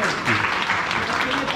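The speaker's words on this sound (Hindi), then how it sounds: "वेद प्रकाश के लिए ताली" Applause breaks out for a candidate at an association election gathering, a steady wash of clapping from a crowd with voices mixed in.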